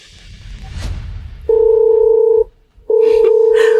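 Two steady telephone dialing tones, each a sustained electronic beep of about a second, separated by a brief pause, after a soft rustle at the start.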